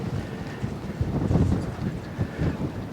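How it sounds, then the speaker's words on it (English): Strong wind buffets a microphone at a cliff edge, a continuous low roaring rush with gusts swelling and easing throughout, loud and close with no clear voices. "Wow, that wind is blowing."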